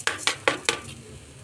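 Grated coconut and sugar stirred in a pan over low flame: four quick, sharp scraping knocks of a utensil against the metal in a brisk rhythm, then a faint sizzle, close by.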